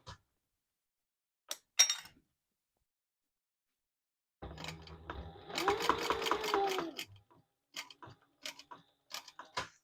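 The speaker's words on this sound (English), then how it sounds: "And I am backstitching." A sewing machine backstitches a wallet gusset, with a short burst of rapid mechanical stitching after scattered clicks and taps, close and fairly quiet.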